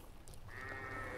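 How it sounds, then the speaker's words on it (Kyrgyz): Young rams bleat in a short nearby burst, a raised sheep call rising over faint farmyard background. "Мына ушул койлор."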